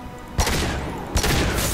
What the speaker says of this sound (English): Use your sniper rifle.